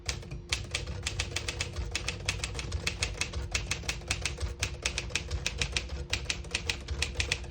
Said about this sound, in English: Obviously it's not silent, but it's much quieter than the typical typewriter.